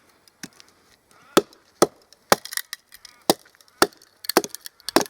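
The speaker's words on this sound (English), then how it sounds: "hearing the wood give and not the knife" An Esee 4 knife chops into wood with a series of sharp, irregular cracking strikes, some isolated and others in quick clusters, close and crisp with faint splintering between blows.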